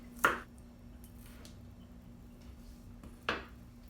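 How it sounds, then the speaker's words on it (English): Two sharp knife chops on a cutting board, spaced about three seconds apart, cutting green onions in a quiet kitchen, with faint soft handling noises in between. "I want to put the green onions on the top, so I'll just chop those up really quick"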